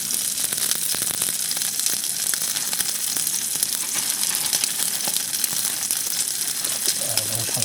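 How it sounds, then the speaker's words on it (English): Onions and jalapenos fry in a pan at a wild camp in the Lake District, with a constant close hiss of sizzling oil and sharp crackling pops of spitting. "Ah, alright, it's spitting too much now."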